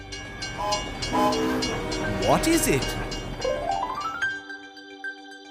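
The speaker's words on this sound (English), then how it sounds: "It's a train." A toy train gives off an electronic sound effect of chugging noise and a rising, whistle-like hoot that ends abruptly, while a voice asks a short question over it.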